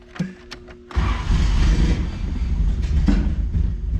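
A rough-running engine on an old project machine burning varnished fuel catches after a few clicks, then roars loudly and unevenly with a ragged, sputtering rumble.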